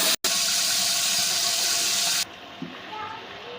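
A glass of water poured into a pan of golden fried onions, a loud steady rushing sizzle that cuts off abruptly into a quieter bubbling simmer.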